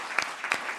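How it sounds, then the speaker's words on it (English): Claps from an audience at a network symposium, brief and moderately loud, with a couple of sharper bursts standing out over a soft, even patter. "I would like to suggest a big round of applause to everybody"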